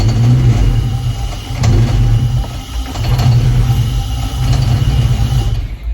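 A Honda Civic EK9 Type R with a swapped B18B engine cranks, catches and revs in repeated loud surges close by, dropping back toward idle between blips.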